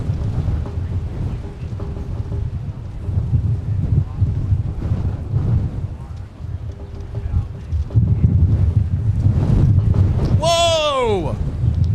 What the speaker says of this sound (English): That had to at least be a 30-knot gust or greater there